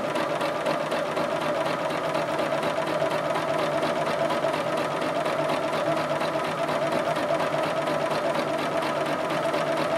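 A sewing machine stitches around the border of a quilt, running in a fast, steady, continuous mechanical rattle that stays loud and close with no pauses.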